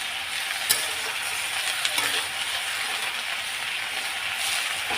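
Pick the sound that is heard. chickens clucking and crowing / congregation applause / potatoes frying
potatoes frying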